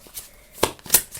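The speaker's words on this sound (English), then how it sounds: "these cards are really loud to shuffle" Tarot cards being shuffled by hand, giving a few brisk riffling bursts with short pauses between them, close and fairly loud with no talking.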